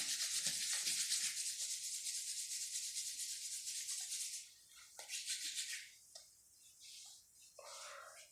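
Both palms rubbing over the face and eyes during a fitness and relaxation exercise, a close, soft, continuous brushing hiss that fades into shorter intermittent strokes, heard alone.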